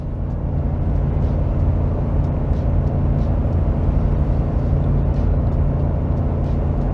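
A Ford F250 with the 7.3L Godzilla V8 gasoline engine tows 14,000 lbs, heard from inside as a steady, even engine and road drone with a constant low rumble.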